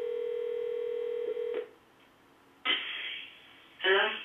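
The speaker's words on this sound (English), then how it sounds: "I'm putting on speakerphone just so you can hear this for the purposes of the demonstration" Desk phone on speakerphone: a steady dial tone cuts off, followed by two bursts of dialing tones, with quiet gaps between and no talking.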